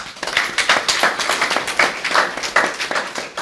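A small audience at a women's basketball team interview event claps in uneven bursts, moderately loud and close, with individual hand claps distinct in a short spell of applause.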